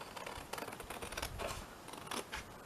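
Scissors cut paper for a pocket folio, giving a quiet run of close snips and rustles over a few seconds.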